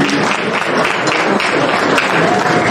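Applause from an audience at an iftar peace gathering, a dense, steady roar of many hands clapping that stays loud and even throughout.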